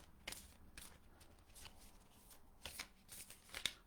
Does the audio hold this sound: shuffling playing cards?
yes